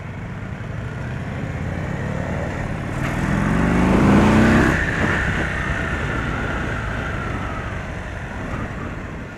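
A 2023 Indian Sport Chief motorcycle engine runs out on the road, a steady low drone that swells as it revs up in the middle and then eases back to a smooth cruise, with no talking.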